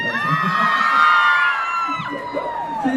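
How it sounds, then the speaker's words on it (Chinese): A concert audience screams and cheers at a charity concert at Dajia Jenn Lann Temple, a loud, sustained crowd roar with high whoops and shrieks, near and dense. "要点尖叫声才可以啊！"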